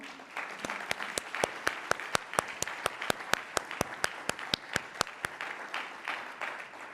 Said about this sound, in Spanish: Quiero que les demos un fuerte aplauso.